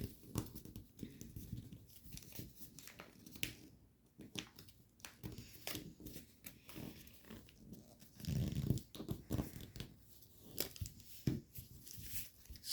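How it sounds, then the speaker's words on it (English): Sheets of paper are creased and swivel-folded by hand while folding an origami Blade Fury Alpha, giving irregular soft crinkles, rustles and sharp pressing snaps up close, with no talking. "So basically just swivel fold this flap in half as best as you can"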